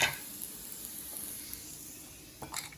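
Paneer-stuffed paratha frying in oil on a pan gives a steady, moderately quiet sizzle and hiss throughout, with a brief louder crackle near the end as it is handled.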